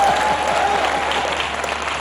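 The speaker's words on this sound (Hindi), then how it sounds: "जोरदार तालियां।" An audience at a Bollywood stage show breaks into dense, continuous applause, a broad wash of clapping that stays loud and steady throughout, with a faint voice briefly audible at the start.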